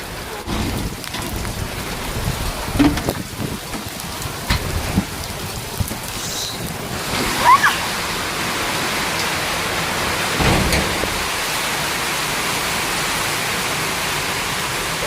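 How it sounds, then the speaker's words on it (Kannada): Heavy rain pours down steadily on a garden in a dense, broadband roar, with occasional louder splashes and drips close by. "ಫುಲ್ ಜೋರು ಮಳೆ ಐತೆ ಇಲ್ಲಿ ನೋಡ್ರಿ"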